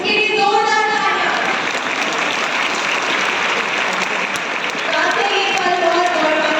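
Sustained audience applause at an Ayurveda Kumbh gathering at Prem Nagar Ashram in Haridwar, loud and dense throughout, with a slight dip near the end before swelling again.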